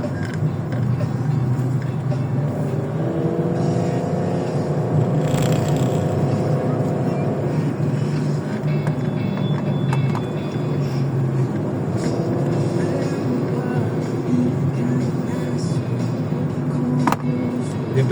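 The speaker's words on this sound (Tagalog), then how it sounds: "Braking talaga. Engine brake." A car slowing under engine braking, a steady droning engine hum with shifting tones as revs fall, close and continuous throughout.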